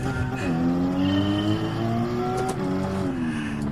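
Porsche Cayman engine in Gran Turismo 7 drones loudly and steadily, its pitch climbing through gear changes with brief dips between shifts, close and continuous.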